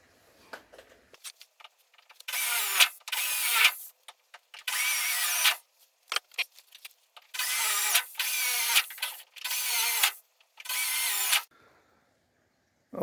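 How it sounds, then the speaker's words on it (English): A power drill bores out plug welds on the steel wheel arch of a Ford Escort MK1, cutting in six sustained, harsh high-pitched bursts of a few seconds each, separated by short pauses and small clinks. "so that's our plug welds drilled out ready"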